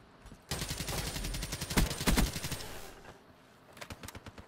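Sniper gunfire in Black Ops 3, a loud close burst of rapid cracking shots lasting a few seconds with heavier punches in the middle, then a quieter spatter of distant fire after a brief pause.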